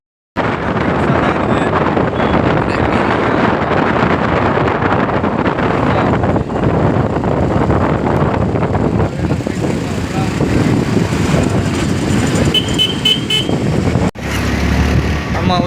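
A motorbike ridden on a road near Usilampatti, its steady engine drone buried under loud, constant wind roar buffeting the microphone, with a brief dip near the end.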